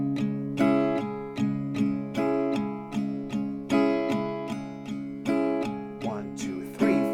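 Acoustic guitar strumming the pattern for a song, steady even downstrokes with bass-and-top alternation, close and alone with no voice.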